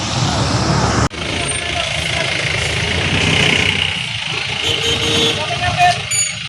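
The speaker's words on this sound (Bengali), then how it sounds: "বাসে করে কোচবিহার যাচ্ছি।" A bus carries riders toward Coochbehar, its engine a steady, fairly loud rumble under road noise that fills the whole stretch, with a sharp thump near the start and no clear talk.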